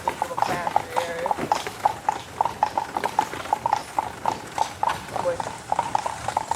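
A horse pulls a carriage through Colonial Williamsburg, Virginia, its hooves clip-clopping in a steady, even rhythm on the road, close and clear, while a person talks over it.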